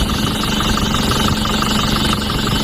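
Car engine running with a fault and blowing white smoke, a loud close steady idle with a rough rhythmic knock and vibrating rumble, no voices over it.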